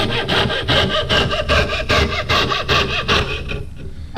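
Hand saw cutting through a wooden chassis piece clamped in a vise, a steady run of loud rasping back-and-forth strokes, close and alone, easing off at the end.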